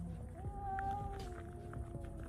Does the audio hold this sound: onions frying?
no